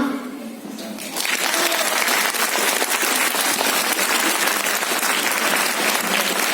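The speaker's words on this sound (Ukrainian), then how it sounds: "Аплодуємо!" An audience at a charity talent concert in a Sambir house of culture breaks into loud, sustained applause after a quiet moment, dense clapping filling the hall, with a voice heard briefly beforehand.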